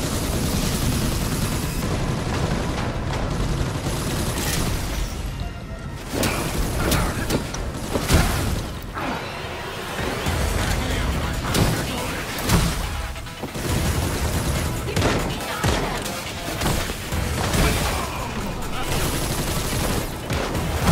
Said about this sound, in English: Hostiles opening fire on upper floors.